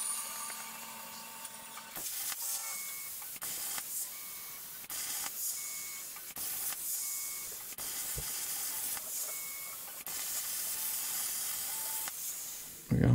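Steel plate being cut out for a twin disk clutch install on an LT4-swapped 1970 Chevelle, a harsh hissing cut repeated in about eight bursts of a second or so each, separated by short pauses.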